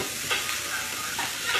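Asparagus sizzling and frying in a hot pan, with soft scraping stirs and light clatter over a steady hiss, close and fairly quiet.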